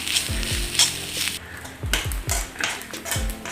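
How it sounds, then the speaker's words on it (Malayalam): Grated coconut is fried brown in a pan with a close, steady sizzle, punctuated by repeated stirring scrapes and clinks of a spoon against the pan, with no speech. "കുറച്ച് കൂടുതൽ തേങ്ങ വറുത്തിടാനായിട്ട് വേണം നന്നായിട്ട് ചുവക്ക വറുക്കണം"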